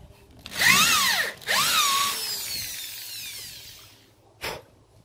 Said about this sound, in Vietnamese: khi mà mình khoan gỗ á, nếu mà mình khoan bình thường đó các bạn